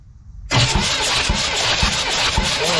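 A blown-up Humvee engine cranks and catches after half a second of silence, then runs loud and close with a rough, pulsing low throb.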